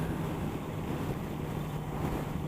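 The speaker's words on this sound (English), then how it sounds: "It's getting windy out here." Steady wind buffets the microphone outdoors beside a 2018 Kawasaki ZX-6R motorcycle in Buffalo, NY, a constant low rumble with a faint hum and no talking.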